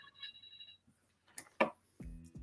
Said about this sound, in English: That's my alarm clock saying, you got 2 minutes. Wrap this up.